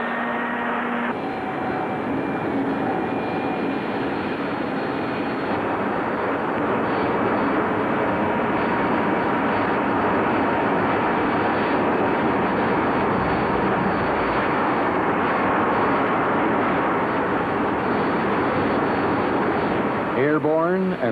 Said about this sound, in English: It features Canada's jet formation aerobatic team